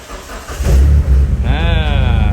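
A modified Proton Perdana Executive performance build starts up with a loud, deep rumble, then revs hard, its pitch climbing steadily in a close, throaty roar that lasts to the end.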